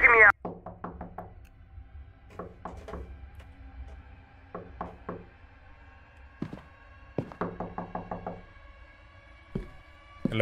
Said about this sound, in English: Been knocking for hours.